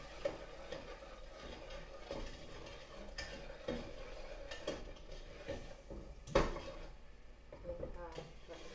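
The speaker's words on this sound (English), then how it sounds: "Then you kind of stir it again" A spoon stirring red chicken curry in a pot, soft scraping and light knocks against the pot in an irregular rhythm, faint and close.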